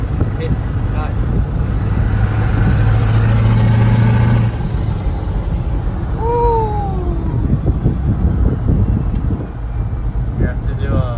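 A Ford 7.3 Powerstroke diesel truck with its exhaust routed out through the hood and the stock downpipe removed rumbles loudly, holding a steady drone before easing off, with wind noise and a voice talking over it.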